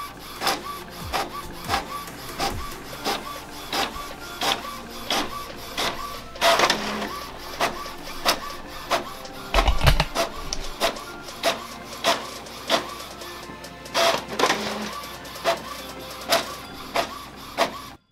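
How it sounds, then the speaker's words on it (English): An Epson XP 620 inkjet printer runs a single-sided page, its print head shuttling back and forth in steady, evenly spaced passes with a few louder feed clunks, close and clear with no talking. "there's no double-sided printing on this printer, unfortunately, so it's just the one page that's going to be coming out"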